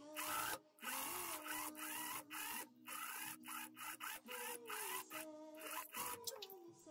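A sewing machine stitches the hood seam of a quilted jacket, right sides together, running in short close bursts broken by brief pauses, with no talking.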